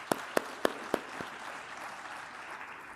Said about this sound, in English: we can give them all a huge round of applause